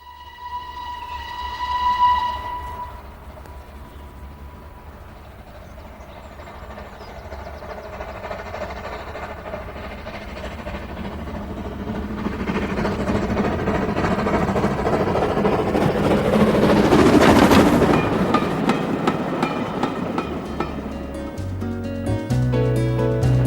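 A restored Southern steam locomotive with a brand new boiler runs on rails, a steady rolling rumble building in loudness and closeness with a brief whistle-like tone near the start and a clattering pass late on.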